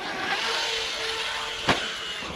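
A Traxxas Hoss 4x4 VXL brushless 3S RC monster truck at full throttle on a dirt BMX track, giving a continuous rushing motor whine with one sharp knock near the end.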